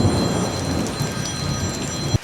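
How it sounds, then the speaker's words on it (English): Steady heavy rain pouring on a surface at a building site during a thunderstorm, with low rumbling thunder close overhead throughout and a sharp crack near the end. "That lightning, thunder, was right on top of us."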